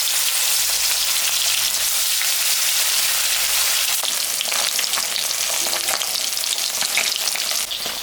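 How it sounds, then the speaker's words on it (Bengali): Fish fries in hot oil in a pan, giving a loud, continuous hissing sizzle with crackling pops that thicken toward the end. "আমি এখন মাছটা ভাজিয়ে নেব"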